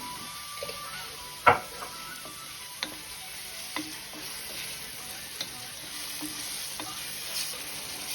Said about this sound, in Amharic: ሽንኩርቴን በዘይት የምጠብሰው ቶሎ እንዲበስልልኝ